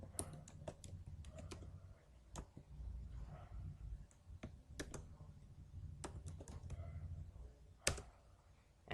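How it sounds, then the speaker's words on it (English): Someone types code on a computer keyboard in a quiet room, sharp key clicks arriving in irregular bursts with a few louder strikes, close and fairly faint over a low background hum. "then type the code which I am doing"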